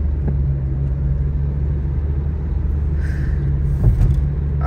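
A car cruising along a Bangladesh highway, a steady low rumble of engine and road noise heard from inside, with a faint passing sound near the end.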